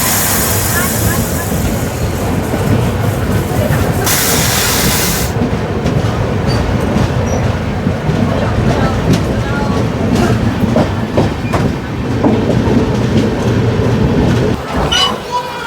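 Rupasi Bangla Express running between Garhbeta and Chandrakona Road, a loud continuous rumble with rattling clickety-clack from the wheels and a hissing rush of air that eases partway through, heard from inside the train.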